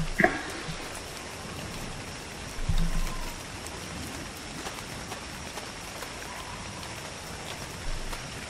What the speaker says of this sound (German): Oder es ist dunkel und regnet.